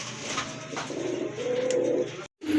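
A pair of Rampuri pigeons coo close by, a steady throaty burbling that swells and holds, broken by a brief cut near the end.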